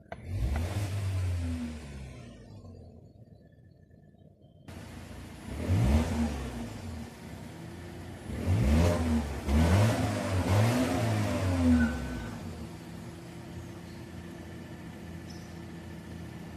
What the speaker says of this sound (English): do a few revs, and see how it sounds